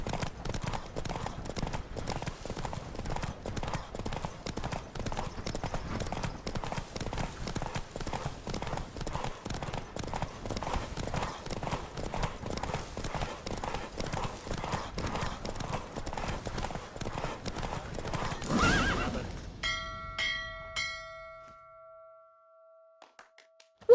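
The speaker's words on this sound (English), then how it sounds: "Don't spare the horse!" Galloping horse hooves in The Witcher 3, a fast, steady clip-clop rhythm pounding loudly for most of the run before cutting off abruptly, followed by a few faint bell-like chimes.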